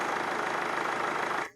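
A diesel vehicle engine idles steadily during a battery starter test, a close, continuous low rumble that cuts off abruptly at the end.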